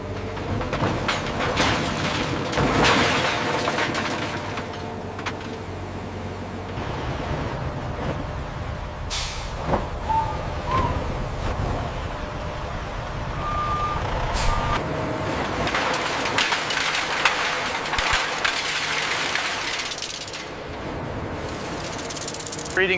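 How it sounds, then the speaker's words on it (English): Heavy trucks deliver scrap iron to a steel plant, with engine rumble, reversing beeps and scraping noise coming in surges, fairly loud and close with brief quieter gaps. "Old iron scrap arrives at the factory in heavy trucks."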